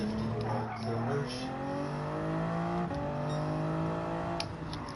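A Toyota Supra race car in the Gran Turismo 7 video game drives through corners with a steady engine drone. Its pitch climbs, drops at an upshift, then climbs again, and faint tire squeal comes through.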